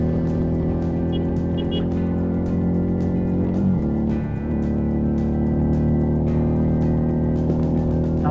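A car engine drones loudly and steadily from the cabin, dipping briefly mid-way before the revs rise again under acceleration after engine braking.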